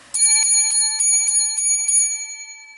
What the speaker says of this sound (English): Seven lucky bells.